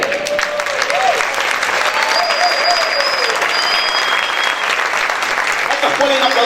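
Congregation at a Spanish-language church service applauding loudly and continuously, a dense sustained wash of clapping with crowd noise and voices mixed in throughout.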